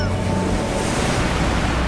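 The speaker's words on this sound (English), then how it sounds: "The waves were so loud and yet they made you feel at peace." Loud ocean surf on an Icelandic shore with dark sand, a steady roaring wash of breaking waves, with wind buffeting the microphone.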